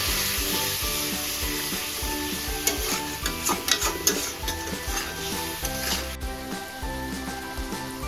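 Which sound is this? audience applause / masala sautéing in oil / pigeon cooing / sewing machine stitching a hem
masala sautéing in oil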